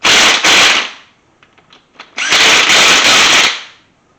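Impact wrench seating bolts on a 350 small-block Chevy engine: two quick loud rattling bursts, a pause with faint clicks, then a longer hammering burst, all close up.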